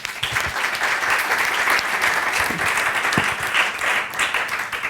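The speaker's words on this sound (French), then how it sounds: "Je crois qu'ils méritent à nouveau vos applaudissements." An audience at a closing ceremony bursts into sustained applause, many hands clapping together in a dense, steady roar that stays loud throughout, with a faint voice or two underneath.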